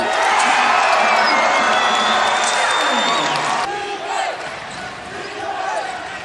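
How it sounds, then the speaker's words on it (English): At a Stanford college basketball game against Arizona State, the arena crowd roars and cheers loudly after a play, then the noise eases off and settles to a lower murmur, with an announcer's voice partly heard over it. "I'm sure you'll hear the crowd"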